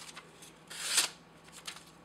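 A knife slices through paper in a quick, clean swish, with a louder cut in the middle and a few faint rustles of paper around it; the sound is close and quiet, with no talking.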